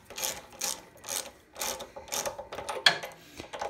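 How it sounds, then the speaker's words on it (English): A ratchet wrench tightening bolts on a go kart with a Predator 212cc engine, giving a string of quick, dry clicking bursts in an uneven rhythm, close and fairly quiet. "You don't need to wrench them down super hard."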